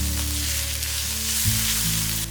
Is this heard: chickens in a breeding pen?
no